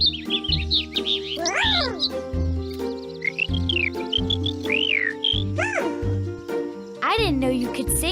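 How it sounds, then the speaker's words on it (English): A songbird trills and chirps in bright, repeated phrases over steady background tones and music-like hums, with a voice also present. "That's a bird singing."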